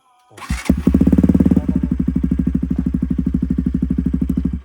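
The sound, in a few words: motorcycle engine running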